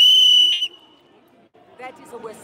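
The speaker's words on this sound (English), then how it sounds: "That is a whistle." A person at a street rally blows a sharp, high, steady whistle for about half a second, loud and close, then it drops away into quiet crowd murmur and nearby voices.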